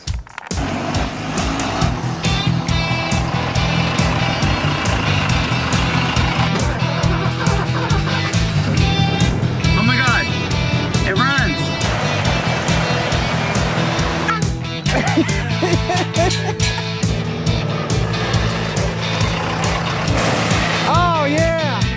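Bullnose Ford F-150 project truck with a Cummins diesel swap rumbling loudly up close as it is moved, a steady heavy engine drone throughout with occasional clatter and whine.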